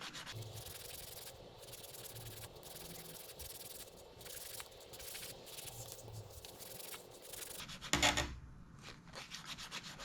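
Steady, close scraping and rubbing of a soft sanding sponge smoothing a seam on a plastic model tank kit, continuous throughout, with one brief louder knock near the end.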